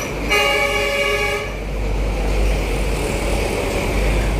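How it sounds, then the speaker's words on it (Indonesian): Vehicle horns honk on a busy Indonesian city road between Jakarta and Bali, one long, loud, harmonic horn blast standing over steady traffic rumble before the road noise carries on alone. "Bunyi hon di sini memang banyak,"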